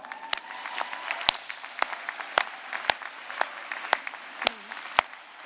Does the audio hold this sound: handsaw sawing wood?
no